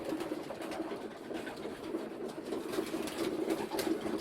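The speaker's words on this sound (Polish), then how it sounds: "Tu sobie gołębie jedzą." Soft coos from racing pigeons eating after returning from a young-bird race murmur over a steady rustling background, with occasional light pecking patter nearby.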